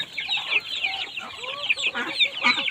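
A flock of chickens and ducks clucking and chattering continuously nearby, overlapping soft calls and squawks with no clear pauses.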